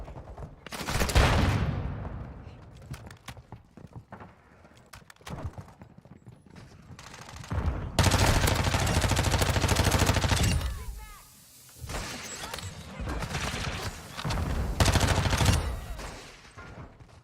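Submachine gun fire in the Modern Warfare 2 video game comes in several rapid bursts, loud and separated by short gaps, with someone talking between and over the shooting.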